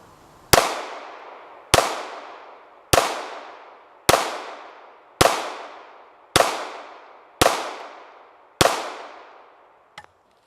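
Eight sharp pistol shots from a 1915 DWM P.08 Luger fired outdoors, spaced about one second apart in a steady rhythm, each loud crack trailing off in a short echo, followed by a faint metallic click.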